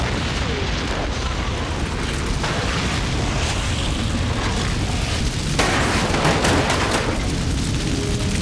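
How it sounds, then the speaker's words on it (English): A truck blowing up on a farm in a Smallville episode, a dense sustained roar of blast and burning debris that stays loud for several seconds, with a sharp fresh burst partway through. "Nixon set up that explosion to test Clark"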